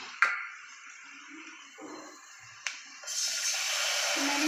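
Water poured into spices frying in a pan for a home-cooked lunch, a sharp splash followed by a steady, loud hiss and sizzle that swells and continues to the end.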